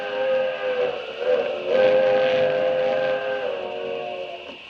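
A steam train whistle sounds in one long, sustained chord, loud and steady, swelling slightly in the middle before easing off.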